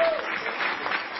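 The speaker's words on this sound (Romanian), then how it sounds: "Aplauze!" Applause from an audience at a nightclub gathering, a short, steady wash of clapping with no pauses.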